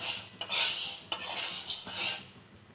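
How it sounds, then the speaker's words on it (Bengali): A spoon scrapes and stirs sago pearls dry-roasting in an empty pan, with close, rattling metallic strokes and a soft granular rustle between them. "एखन आमी शुकनो खोलाय भेजे नेब"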